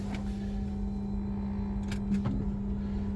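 Tesla Model 3 electric car in track mode on the Clastres race circuit, a steady low rumble and faint whine from inside the cabin with a couple of brief clicks, no talking.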